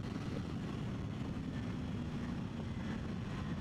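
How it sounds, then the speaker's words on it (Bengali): A car on a long drive slows under engine braking, giving a steady low droning rumble with road noise from inside the cabin and no voices. "ইঞ্জিনের মাধ্যমে ব্রেক।"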